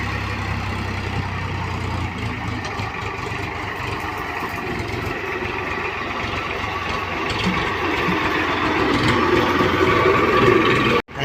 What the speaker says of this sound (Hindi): फार्मटेक ट्रैक्टर है मस्त ट्रैक्टर आवे यार